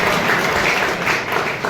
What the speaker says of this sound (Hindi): मैंने 2 बार तालियां बजाई, तीसरी बार आपने खुद बजा दी ना आपने